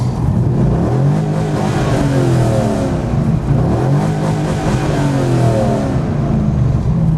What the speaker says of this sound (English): that would have blown most Corvettes up because I over-revved the engine